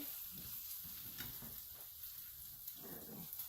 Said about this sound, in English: while my egg is cooking